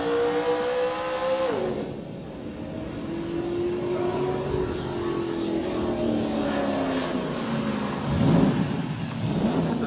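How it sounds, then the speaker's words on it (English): A car engine revs and accelerates through gear changes, the pitch climbing, dropping at a shift, then climbing again in a steady loud drone, with a faint voice briefly underneath. "That's a nice car."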